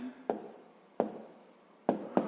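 Pen writing an answer to a sixth-grade maths equation on paper: four short tapping strokes with brief scratches between them, quiet and close.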